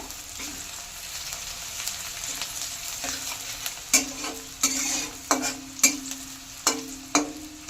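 Sliced onions fry in a pan until golden, with a steady sizzle broken by a series of sharp, rhythmic scraping strokes from a stirring spatula that grow louder toward the end.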